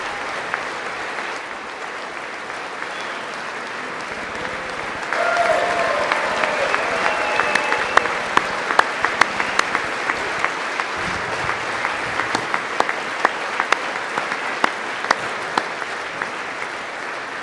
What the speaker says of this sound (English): The sound of Trump's clapping.